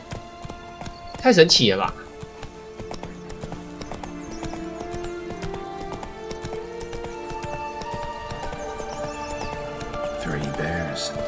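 The horse Roach galloping in The Witcher 3, a steady rhythmic clip-clop of hooves with a short whinny near the start, under game music and someone talking.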